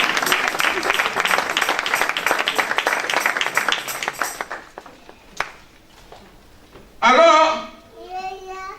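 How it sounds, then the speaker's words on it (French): A church audience applauds and cheers for children during a performance, with sustained, dense clapping that fades out, followed by someone speaking. "on peut acclamer quand même pour ces enfants"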